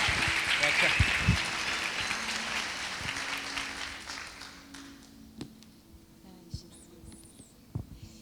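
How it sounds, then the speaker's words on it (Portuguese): A church congregation applauds a prophet at a ministry service, the dense clapping loud at first and then thinning to scattered claps, with faint talk underneath. "Palmas para o profeta."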